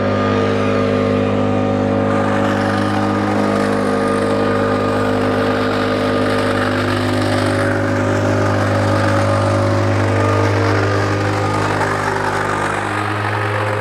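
A hedge trimmer cutting ornamental grasses back at the base during a fall garden cleanup runs as a loud, close, steady motor drone with a strong buzzing tone and slight shifts in pitch, no talk over it.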